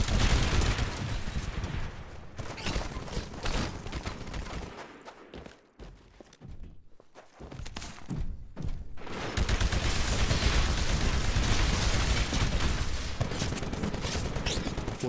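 Heavy weapons fire and explosions in the Titanfall video game as a pilot's anti-Titan weapon engages a Titan, making a dense barrage of shots and blasts with a brief lull in the middle before it resumes at full intensity.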